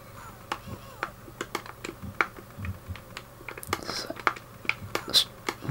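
Clacky plastic button clicks from an Atari Jaguar joypad during a Cannon Fodder game, a rapid irregular run of sharp taps held close, over low game music and hum.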